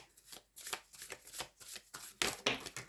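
Tarot cards drawn and handled during a reading, a series of soft flicks, slides and shuffling snaps, close and quiet, with no speech over them.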